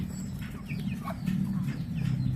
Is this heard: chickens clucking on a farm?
yes